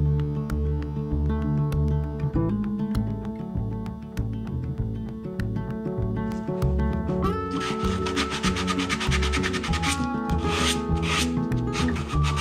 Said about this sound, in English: So pick back up with that and we'll finish sanding this out.